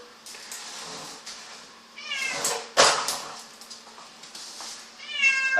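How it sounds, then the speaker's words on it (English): A frightened cat lets out a series of drawn-out meows with rising, wavering tones, one especially long cry in the middle, fairly close and alone in a quiet indoor room, reacting to an unplugged vacuum cleaner. "That's the longest meow I ever heard."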